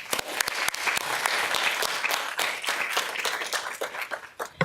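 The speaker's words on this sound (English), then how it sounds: "round of applause, please" Audience applause at a university water summit, with dense steady clapping from a crowd that carries on for several seconds before thinning out toward the end.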